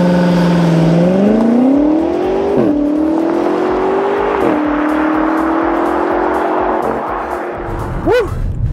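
A 2021 BMW X6M Competition SUV, rated at 617 horsepower, launches hard under launch control, its engine revving loud and close through rising gear pulls with sharp shift breaks, ending in a brief rev blip.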